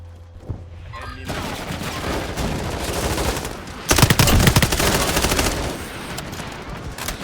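Call of Duty MW4 multiplayer beta erupts in sustained heavy gunfire, loud dense automatic bursts that build and then hammer harder midway, continuing almost unbroken.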